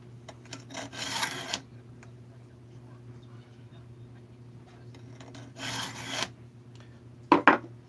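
Raker file rasping across a chainsaw chain, a few slow close scraping strokes separated by quiet pauses, ending with a couple of sharp metallic clicks.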